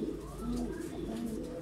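Pigeons coo steadily at close range in Fiko dayı's pigeon coop and shop in Kocaeli, a continuous low murmur of several birds overlapping, with faint background noise.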